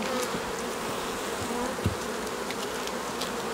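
Honey bees swarm and buzz around a hive, a steady dense drone holding close and constant with a few individual bees zipping nearer past it.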